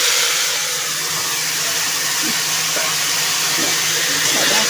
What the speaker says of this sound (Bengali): আমি একটু পেঁয়াজ টমেটো ঘষে রেখেছিলাম, এটা দিয়ে দিচ্ছি।